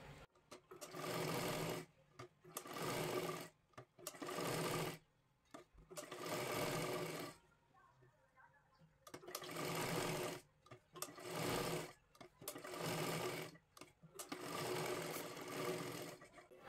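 A sewing machine stitches the lining of a child's lehenga dress in repeated bursts of steady whirring, each a second or two long, separated by short quiet pauses, close by and with no talking.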